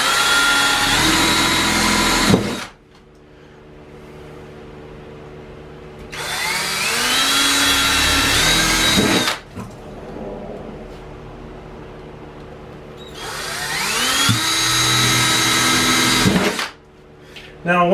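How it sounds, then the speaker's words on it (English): A power drill bores holes through a cargo trailer wall for a window in three separate loud whining bursts, each several seconds long, with short quiet gaps between them. "Now there's not really any turning back once you start drilling holes"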